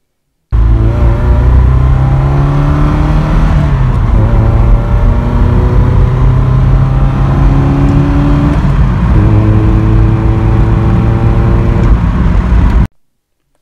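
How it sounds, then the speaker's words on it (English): The Pinto engine of a 1982 Ford Cortina 80 Mk5 revs loudly and roughly close by, climbing and dropping through several gear-like pitch sweeps over a long stretch, with no talk. "the Pinto engine may be a little bit loud and rough, but it doesn't half sound tuneful."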